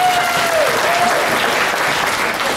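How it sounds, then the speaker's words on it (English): A comedy club crowd at a stand-up show gives loud, dense, steady applause for an audience member named James, with a faint whistle near the start. "big round of applause for James."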